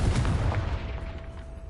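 Confringo spell explosions in Hogwarts Legacy: a loud, rumbling blast with deep booming low end that rolls on and slowly fades, close and alone with no speech.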